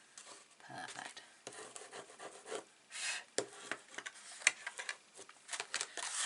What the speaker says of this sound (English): And then I'm just going to finish off burnishing this section.